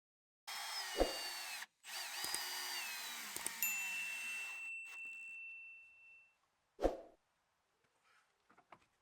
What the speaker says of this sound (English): And then I drill a 10mm hole for an M10 coach bolt